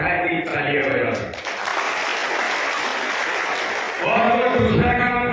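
Audience applause at a BJP workers' conference in Jhabua, a loud burst of clapping lasting about two and a half seconds, with someone speaking through a microphone before and after it.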